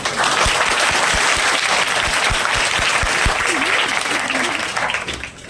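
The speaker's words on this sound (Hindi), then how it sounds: "सर के सम्मान में जोरदार ताली चाहिए" Sustained applause from an audience at a school farewell and felicitation ceremony for a teacher, dense and steady throughout with some low thumps and faint voices underneath, tapering slightly at the end.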